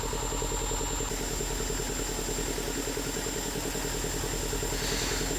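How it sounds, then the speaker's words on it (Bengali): A small river trawler's troubled engine runs steadily with a rapid, even low throb, close and constant. "ছোট ট্রলারটির ইঞ্জিন বারবার নষ্ট হচ্ছে, ডিস্টার্ব করছে, এবং মাঝে মাঝে বিকলও হচ্ছে"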